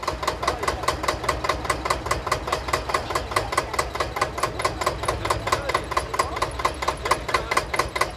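A vintage single-cylinder tractor engine chugs steadily with rapid, even putt-putt knocks, running continuously and fairly close without any voices.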